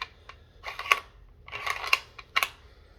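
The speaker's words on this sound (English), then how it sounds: "The bolt is incredibly smooth" Mechanical clicks and short metallic clacks from a lightweight hunting rifle's cut bolt being worked, coming in three separate close bursts with quiet gaps between them.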